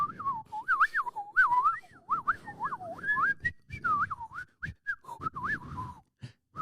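A person whistles in a whistled language used by mountain people in Africa, with quick, warbling pitch glides in short phrases separated by brief pauses, clear and close with no spoken words.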